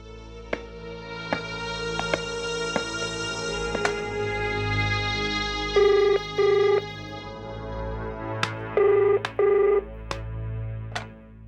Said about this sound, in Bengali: গিয়ে সলোনীকে ফোন তো কর।